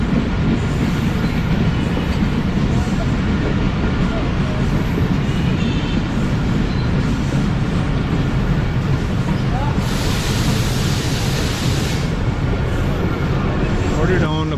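The Jaffar Express passenger train slows at Okara railway station at night, a loud steady rumble and rattle of rolling wagons heard from on board, with a brief high wheel squeal partway through and continuous noise throughout.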